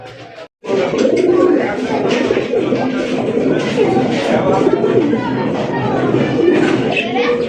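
Fancy racer golla pigeons coo steadily and close, a dense, continuous murmur of many birds with people chattering throughout.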